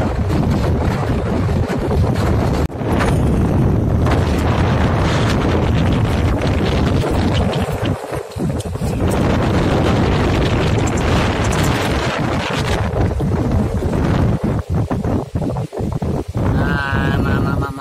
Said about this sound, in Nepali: गाइस म देखाउँछु है हावा कस्तो चल्दो रहेछ भनेर तपाईहरुलाई। उडायो उडायो मलाई